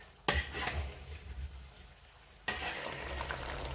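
Pork fat renders, sizzling and crackling steadily in a pot, with two sharp scraping stirs of a skimmer breaking through the frying hiss.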